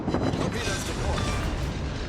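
A large explosion as an enemy destroyer is blown up in the naval video game World of Warships: Legends, a dense rumbling blast filling the full two seconds and heard under game voice narration.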